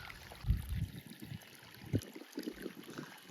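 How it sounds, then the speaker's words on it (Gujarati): Water gushes along an irrigation channel in a farm field, a low, rough rushing with uneven surges that swell and fade, moderately near and fairly faint. "તો અહીંયા જો સરસ મજાનું પાણી જાય છે ધમધોકાર"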